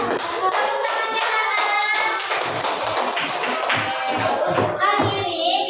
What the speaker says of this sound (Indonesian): Beri tepuk tangan dulu untuk kelompok 3.